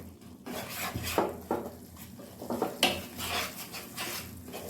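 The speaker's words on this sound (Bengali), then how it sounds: "এখন মশলাটাকে ভালো করে কষিয়ে নেব" Spices with a little sugar are sautéed and stirred in a pan for a green jackfruit curry, with a spatula scraping and clinking against the metal at an uneven rhythm over a faint sizzle.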